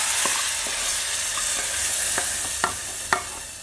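A spoon stirs a sizzling tempering into a pot of Kerala sambar, a constant hiss of frying under soft scraping taps that grow sharper toward the end.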